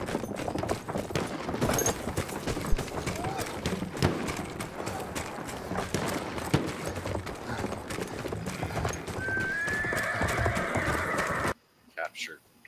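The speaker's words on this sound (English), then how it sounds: "But there's horses." Horses gallop with rapid clip-clop hoofbeats and a neigh in a Battlefield 1 battle, with the steady pounding running on for most of the stretch under gunfire and occasional talk before cutting off abruptly near the end.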